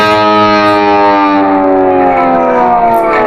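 A loud, distorted electric guitar note slides steadily down the neck, falling in pitch, sustained and gliding over a few seconds.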